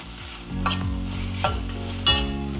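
Tomato and onion sautéing in a pan for a chutney to serve with pearl millet dosai, a low steady sizzle punctuated by three distinct scrapes of a spatula, close and with no talk.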